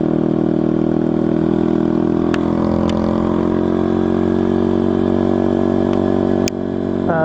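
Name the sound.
SSR TR160 motorcycle engine running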